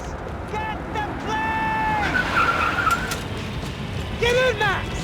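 A car engine revs while tires squeal and skid repeatedly in Max Payne 3, loud and close, with urgent shouting voices over the screeching.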